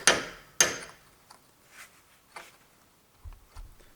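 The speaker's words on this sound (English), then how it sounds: "in this area I hit in this way, and soon there is driveshaft nut lock dent" A hammer strikes a tool against a vehicle driveshaft nut to stake a lock dent: two sharp metallic hits, then several fainter taps and two dull low knocks, close and isolated.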